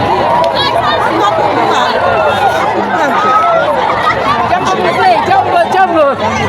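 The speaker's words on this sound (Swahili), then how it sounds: "watu wanashangilia kwa furaha" Large crowd cheering joyfully, a loud, dense babble of excited voices and shouts filling the whole stretch, close and continuous with no pause.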